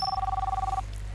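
A phone rings at home in a domestic drama scene, a steady electronic tone pulsing rapidly for most of the moment before cutting off, with a low hum beneath.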